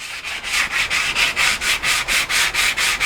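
New sandpaper rubs back and forth over wooden bed slats in a steady, close rhythm of about four strokes per second, each a bright, scratchy swish, with no talking.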